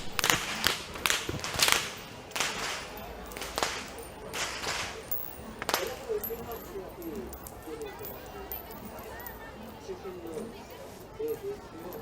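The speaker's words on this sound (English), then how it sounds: "these whip wielders are the symbolic imagery to depict the sound of lightning and thunder to pay homage to the rain gods" Whip wielders crack their whips at the Kandy Esala Perahera procession, a series of sharp, loud cracks in the first six seconds amid crowd noise and voices, fading to a busy background murmur.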